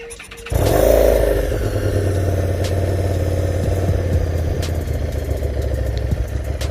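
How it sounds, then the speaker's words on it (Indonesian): A Harley-Davidson Street 500 motorcycle fires up after brief quiet, cranking into a loud start and then settling into a steady, rumbling idle nearby with no talking. "kita bisa hidupkan mesinnya"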